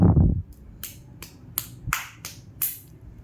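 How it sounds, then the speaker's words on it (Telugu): A child claps hands several times indoors, giving a series of light, sharp claps spaced unevenly over a few seconds. "క్లాప్స్ కొట్టు."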